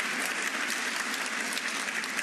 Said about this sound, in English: the round of applause is for Mark Williams, who just won the 4th frame against Fergal O'Brien